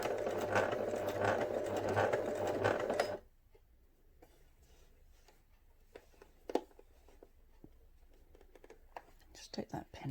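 A domestic sewing machine stitches forwards along the top stitching of a small flat cap for a memory bear. It runs as a loud, steady, close whirr for about three seconds, then stops, leaving faint handling clicks.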